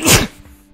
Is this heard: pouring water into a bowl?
no